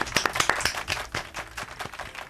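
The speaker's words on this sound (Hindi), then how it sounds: "जोरदार तालियां" A studio audience claps together in a burst of fairly loud, dense applause, with sharp individual claps standing out.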